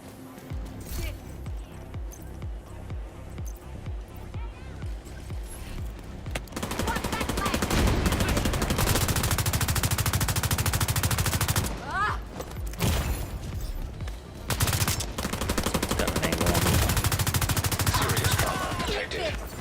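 An automated turret in the shooter video game The Division 2 fires loud, rapid bursts of gunfire with booming impacts, near and dense, broken by short pauses; a voice talks intermittently underneath.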